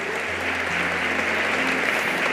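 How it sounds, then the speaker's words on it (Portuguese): Congregation clapping during a church service, a steady, full round of applause with a low hum underneath and no voices over it. "Diga amém e dê um aplauso ao Senhor."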